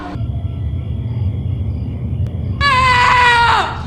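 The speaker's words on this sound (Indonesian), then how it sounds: "berteriak sekencang mungkin dengan harapan ada yang bisa mendengarnya" A boy in a film screams as loud as he can. A long, piercing cry rises over a low rumbling background and cuts off after about a second.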